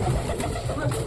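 A pet pigeon in a cage gives a short, low, soft coo, close by and steady for about a second, with faint room noise behind it.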